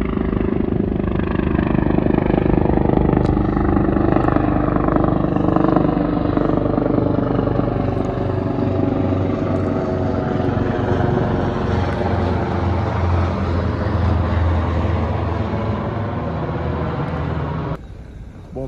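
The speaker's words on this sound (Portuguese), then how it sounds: "Os helicópteros não param de passar aqui." Helicopters pass over flood-ravaged Lajeado in a loud, continuous rotor and engine drone that stays steady and heavy for the whole stretch, then drops off sharply at the end, with no voices.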